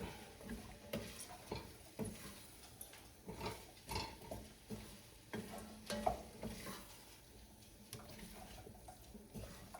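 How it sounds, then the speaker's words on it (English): A spoon stirs and scrapes browned bits from the bottom of a soup pot while chuck wagon soup cooks. Soft, irregular scraping and clinking repeat close by over a low simmering background. "we're getting some of that brown stuff off of the pot"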